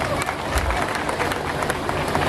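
Crowd applause at a community gathering for a Gondi history speech in Bijapur, loud continuous clapping with a murmur of voices mixed in.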